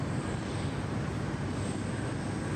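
A British Airways jet arriving on runway 34 left at Sydney Airport, heard as a steady broadband engine roar at moderate distance, continuous and even through the whole span without voices.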